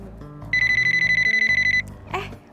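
A telephone rings indoors with a loud, rapid electronic trilling burst lasting over a second, followed by a brief clatter; faint voices sit underneath.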